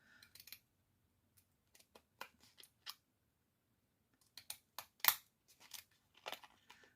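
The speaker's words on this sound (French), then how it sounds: "Moi, j'aime bien les ciseaux cranteurs." Pinking shears cutting paper in a quiet room, giving sparse, close crunchy snips in short clusters separated by silent pauses.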